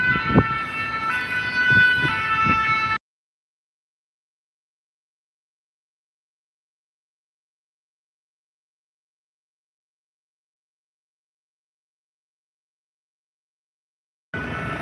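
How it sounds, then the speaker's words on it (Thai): A fire engine's wailing emergency siren sounds loudly for a few seconds in France, then cuts to silence before briefly returning at the very end. "เมื่อกี้ไม่ใช่รถตำรวจนะคะเป็นรถดับเพลิงนะคะ"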